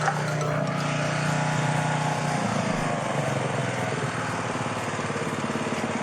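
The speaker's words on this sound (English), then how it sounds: "Just mowing the lawn, mate." A lawn mower engine drones steadily and loudly throughout, its hum shifting pitch partway through, with no voices on top.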